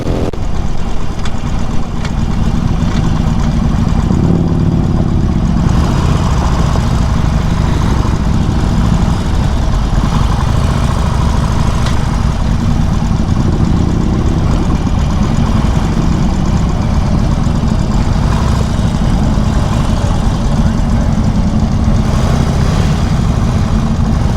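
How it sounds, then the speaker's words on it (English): Harley-Davidson Street 750 motorcycle engine running steadily, a loud continuous low rumble heard close with no talk over it. "But that's Ishan riding a street 750."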